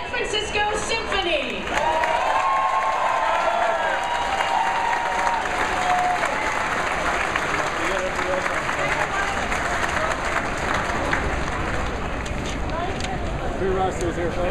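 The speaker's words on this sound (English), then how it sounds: "how about a round of applause for members of the San Francisco Symphony?" A stadium crowd at a San Francisco Giants championship ring ceremony applauds and cheers for San Francisco Symphony members, a broad sustained roar of clapping with voices and a brief tonal sound early on.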